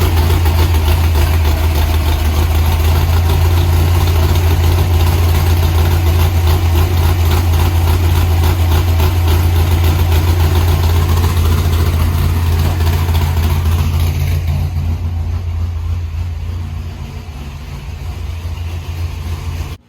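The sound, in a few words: Datsun 240Z L24 engine running at machine shop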